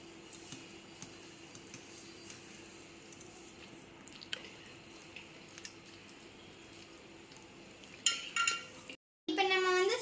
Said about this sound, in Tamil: இப்போ நம்ம வந்து ஸ்பேட்சுலா வச்சு இதை மிக்ஸ் பண்ணலாம்